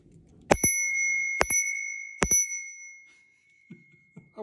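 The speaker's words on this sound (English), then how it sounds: "It's like a steampunk bell." A steampunk-style bicycle bell on an ENGWE E26 e-bike rings three times, each bright metallic ding left to ring out and fade, with quiet rustling before and after.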